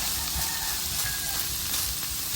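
Ground beef sautés in a pan for a homemade pizza topping, making a constant close sizzle with faint stirring scrapes underneath and no voices.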